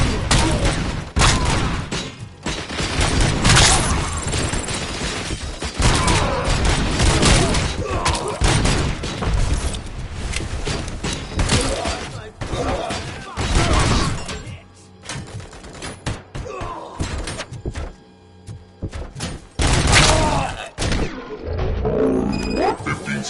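ED-209 robot firing in the video game Robocop: Rogue City: loud, dense bursts of rapid gunfire and heavy booming impacts, with short lulls and a brief voice partway through.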